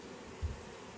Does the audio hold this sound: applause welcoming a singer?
no